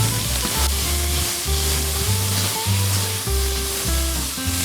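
Chopped onion fries in olive oil in a pan, a loud continuous close sizzle with light stirring and music playing underneath.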